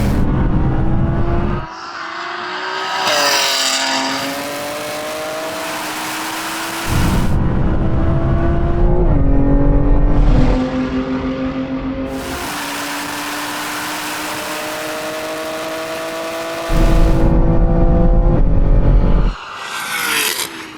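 High-powered cars in a third-gear rolling drag race, a Lamborghini Revuelto against 1000 hp BMW M3 Touring and Audi R8, with loud engines revving hard and rising in pitch through repeated gear changes, cutting in and out.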